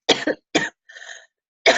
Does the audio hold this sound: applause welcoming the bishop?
no